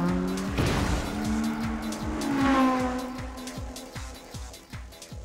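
An AE86 racing car tearing through a corner in an animated race, engine roaring with a falling then rising pitch and a rhythmic rasping growl as it passes near and loud, with no voices over it.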